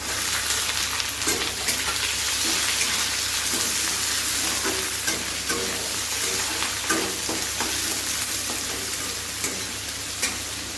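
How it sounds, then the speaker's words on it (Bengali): Onions with chopped garlic and ginger fry in hot oil in a pan for chow mein, a loud continuous sizzle with regular scraping stirs and occasional pops, no voices. "এখন আমি পেঁয়াজ দিয়ে দেবো।"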